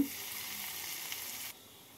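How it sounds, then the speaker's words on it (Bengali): Three dried chillies, half a teaspoon of mustard seeds and half a teaspoon of asafoetida sizzle in hot oil, a close, steady frying hiss that drops away abruptly near the end. "ফোড়নে দিচ্ছি 3টে শুকনো লঙ্কা, 1/2 টিস্পুন সর্ষে, 1/2 টিস্পুন হিং"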